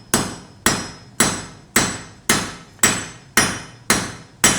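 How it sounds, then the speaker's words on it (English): A blacksmith's hammer forging a leaf pendant on an anvil, eight sharp ringing blows in an even, steady rhythm, each strike loud and close with a short metallic decay, no talk. "So I can forge on this side of the anvil and then move over to this one."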